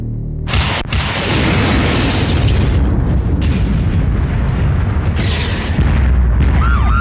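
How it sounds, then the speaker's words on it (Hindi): An electrical transformer explodes in a film sound effect: a sudden deafening boom bursts into a long, roaring, crackling blast that fills the whole stretch at full loudness, with a faint whine near the end. "ट्रांसफार्मर उड़ा।"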